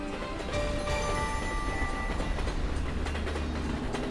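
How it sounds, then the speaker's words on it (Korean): A train runs along the railway line near Jejin Station in Goseong, Gangwon, rolling steadily toward the listener with a loud, continuous rumble of wheels and rail, a few tonal squeals rising over the din. "북에서 반가운 기차가 달려옵니다"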